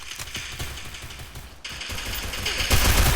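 Rapid automatic gunfire from the mobile shooter game Free Fire rattles in quick bursts of closely spaced shots, fairly loud and with no talking.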